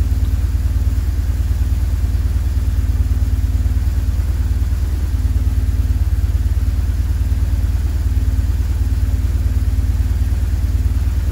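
A BMW R 1150 GS motorcycle engine runs steadily at close range during an oil test, with a loud, even low rumble and mechanical clatter and no voices.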